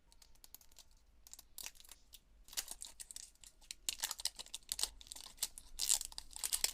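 A Jurassic World Mashems surprise ball package being unwrapped by hand, with close, faint crinkling and tearing of wrapping in irregular bursts that grow busier toward the end.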